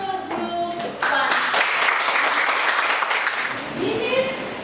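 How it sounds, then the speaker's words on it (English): Classroom audience of university students applauding a discussion group, a short burst of clapping rising after a spoken line, with talk heard at the start and end. "Give applause to group 1."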